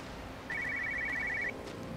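A phone ringing inside a car in the video game Everybody's Gone to the Rapture, one faint electronic trill lasting about a second over a low ambient hum.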